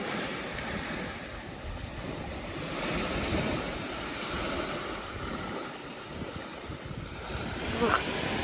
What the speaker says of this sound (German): Schönen Strand.